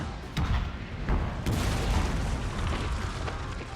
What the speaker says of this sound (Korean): 대포 개잘쏴 대포